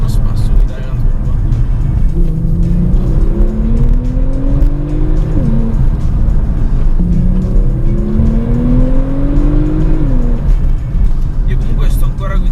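Porsche 911 Turbo driven on a wet road, its engine rising in pitch through two long acceleration pulls with gear changes, loud and close, alongside a steady roar of tyres and road noise.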